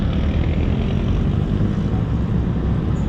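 Easyride 150FI motorcycle engine pulling steadily uphill: a loud, continuous, close engine drone with wind rush and no speech.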